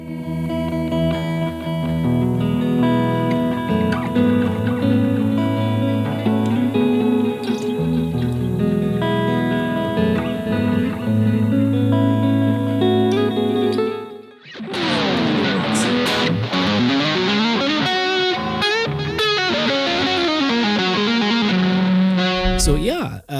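An electric guitar with an ambient, warm gospel-style tone through a Boss GT-1000 effects processor plays sustained chords washed in reverb and echo, then a brighter, busier phrase after a short break, loud and continuous with no talking.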